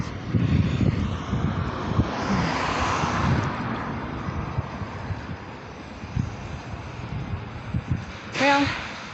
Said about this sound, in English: It's a bit of a breeze.